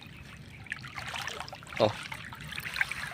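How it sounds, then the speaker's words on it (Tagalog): Feet wade through shallow water at a fish pond, soft sloshing and trickling splashes with one sharper splash midway, and a brief voice exclaims. "Nakita niyo, mga giliw, naglalakad ako sa tubig."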